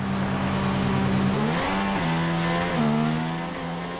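A Formula 1 car leaves the pit lane in the F1 2016 racing game, its high engine note climbing and shifting through a few gear changes, loud and close before easing slightly at the end.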